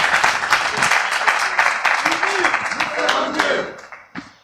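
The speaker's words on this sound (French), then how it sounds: "Applaudissez pour vous." A studio audience at a televised interview show with a presidential candidate bursts into loud, dense applause. A voice speaks briefly over the clapping, which thins out and fades away near the end.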